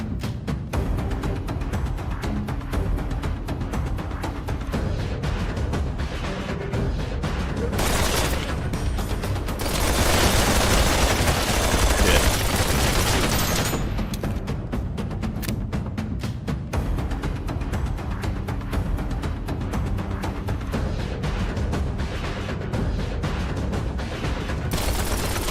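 Hip-fire gunfire in the video game Citizen Vigilante, a steady, dense rattle of rapid shots pouring out for the whole stretch, loud and close, swelling into a heavier barrage near the middle.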